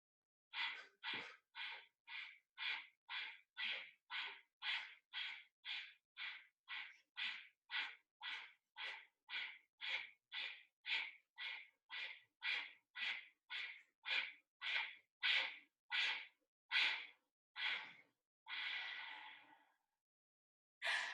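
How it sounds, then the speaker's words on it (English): Kapalabhati yoga breathing in a 60-minute practice: a steady train of about thirty rapid, forceful nasal exhales, evenly spaced and close, speeding slightly and ending with a longer final breath, no talking. "We'll do a second round of short Kapalabhati here"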